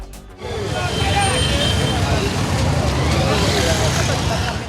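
Loud, dense roar of a busy city street in Kinshasa, Congo, with continuous engine rumble and a wash of traffic noise and distant voices.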